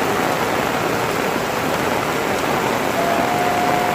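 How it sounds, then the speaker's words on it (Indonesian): Heavy rain pours steadily over a village, a dense, even roar of downpour with no pauses and no voices. "Nah, sini hujannya lagi besar."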